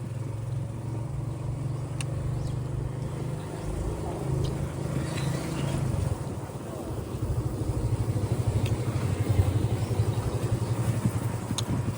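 A motorcycle engine runs as a steady low hum that grows somewhat louder in the second half, with people talking over it.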